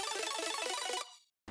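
Melodic bass house synth chords without vocoder processing pulse in rapid bright stabs for about a second, then fade to silence before a brief return of sound.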